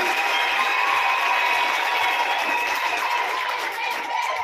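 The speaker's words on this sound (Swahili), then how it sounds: "Makofi kwa mheshimiwa." A church congregation claps for a dignitary during a service. The sound is a dense, steady wash of applause and crowd noise that holds at an even level throughout.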